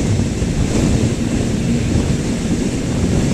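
Wind roars steadily past a light motorcycle riding on the road, a loud, constant buffeting rumble with no break.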